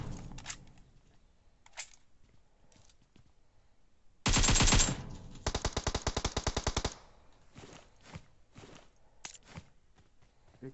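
Video game gunfire from a battle-royale match: a loud sustained burst followed by a rapid string of evenly spaced shots, with scattered single shots and faint footstep-like clicks before and after.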